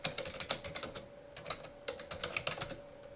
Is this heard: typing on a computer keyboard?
yes